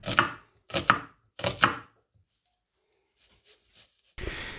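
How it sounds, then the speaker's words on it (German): A medium onion is being chopped with a knife in a home kitchen: three loud, evenly spaced chops, then a few soft taps and a short scraping rustle at the end. "Und deswegen schneide ich erstmal eine mittelgroße Zwiebel klein."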